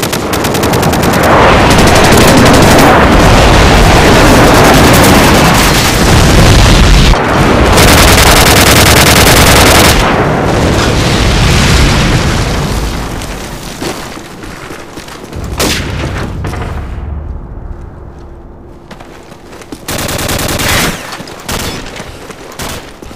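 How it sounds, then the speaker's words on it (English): An airstrike and heavy gunfire in Call of Duty 4: Modern Warfare multiplayer, with sustained machine-gun bursts and booming explosions, loud and dense at first, then thinning to scattered shots and blasts. "Airstrike on the way!"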